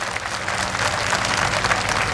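Audience at a political speech in Gorakhpur breaking into steady applause, dense continuous clapping from a sizable crowd, fairly close and unbroken for the whole stretch.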